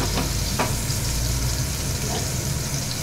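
Eggplant slices frying in hot oil in a pan, a dense steady sizzle heard close up with a few soft clinks of a utensil, continuous throughout.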